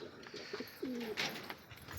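Soft pigeon coos rise and fall a couple of times against a faint background hum, with no voices.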